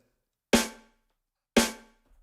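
Two thin, bass-less bass drum thumps through a high-pass filter, about a second apart, each with a quick attack and short decay, alone in silence.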